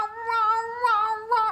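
A person imitates a cat crying while eating, producing a sustained, wavering meow-like wail in several rising and falling swells, close and fairly loud, with no other talk.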